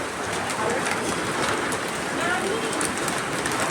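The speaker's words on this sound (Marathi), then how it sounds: "खूप पाऊस आहे खूप." Heavy monsoon rain falls near a building, a loud, dense and unbroken hiss of downpour filling the whole stretch, with a voice talking faintly underneath.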